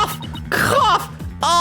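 Harsh, forceful coughs with throat-clearing break up close and loud, in a few uneven bursts within a couple of seconds.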